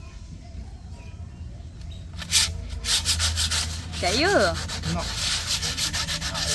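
Sandpaper rubbing on a spray-painted cap, giving rough scratchy strokes that start partway through and continue in uneven bursts, close to the mic, while people speak briefly.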